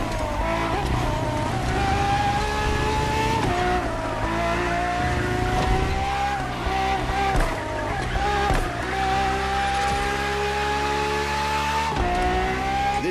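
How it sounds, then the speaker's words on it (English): A Ferrari FXX K supercar races in a video game, its engine a loud, continuous high-pitched howl that rises through the revs, with brief dips at gear shifts. "For this second lap, you'll be driving the FXXK"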